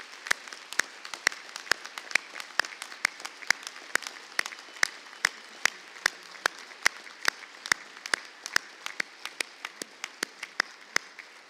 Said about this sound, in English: Ladies and gentlemen, a round of applause for true American patriots.